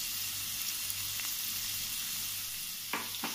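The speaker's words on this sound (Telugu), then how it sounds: "నీట్గా మెత్తబడే వరకు వేయించుకోవాలి. ఇది తొందరగా మగ్గాలంటే కొద్దిగా సాల్ట్, కొద్దిగా సాల్ట్ యాడ్ చేసుకోవాలి." Vegetables sizzle steadily in a pan after a pinch of salt, a continuous frying hiss with a couple of short stirring scrapes near the end, heard up close with no talking.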